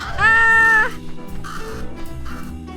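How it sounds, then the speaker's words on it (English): A cat in the video game Little Kitty, Big City gives one loud, drawn-out meow. Quieter game sounds follow. "It's a bit loud, isn't it? Kitty sleeping!"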